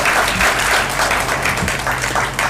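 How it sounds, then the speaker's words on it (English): An audience at a regional justice symposium claps for a staff member, steady dense applause filling the room throughout at close, loud level. "and a clap for her as well"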